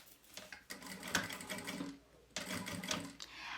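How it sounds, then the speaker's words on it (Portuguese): A sewing machine stitches a fabric lining onto a garment at close range, running in two steady bursts with a short pause between them. "E aí, eu vou costurar."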